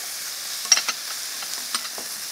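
Mustard leaf kimchi stems stir-frying with cooked meat in a pan, a soft steady sizzle with a few light scraping stirs, fairly quiet and with no one speaking.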